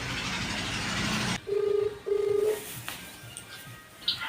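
Telephone dialing in a Hindi-language domestic scene: two short, clear keypad tones in quick succession after a noisy stretch, followed by quiet room tone with a faint click or two.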